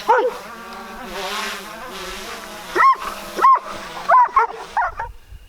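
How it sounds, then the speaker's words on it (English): Several dogs bark in a quick cluster of sharp yelps and whimpers, fairly close, following a low engine-like drone. "Here comes the dogs."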